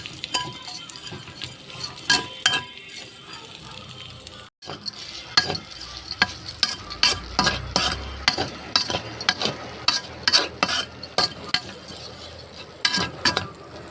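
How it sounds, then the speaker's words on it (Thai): Chilies sizzle in hot oil while a utensil scrapes and clinks against the pan in irregular stirring strokes, close by. "ใส่พริกลงไปคั่วเลยค่ะ"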